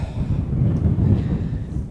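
Wind buffets outdoors during a fishing trip in rough conditions, a low rumbling gusty roar against the microphone that swells and eases continuously, with no voices.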